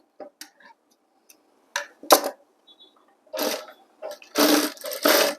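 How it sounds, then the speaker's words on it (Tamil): Sewing machine stitching school uniform pants, short bursts of rapid mechanical stitching separated by pauses, with light clicks and handling noises between runs, fairly close and moderate in level. "மறுபடியும் இன்னொரு தையல் ஒன்று போட்டுருங்க"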